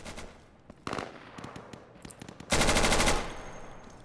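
Short controlled bursts of automatic gunfire from a rifle in the Insurgency shooter game, a few sparse single shots early, then one loud sustained burst lasting about half a second near the end, with no talking.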